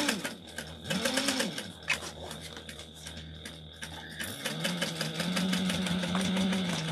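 A sewing machine backstitches along a garment side seam, giving a steady close mechanical whir and rapid needle clatter that shifts pitch briefly near the middle before running on.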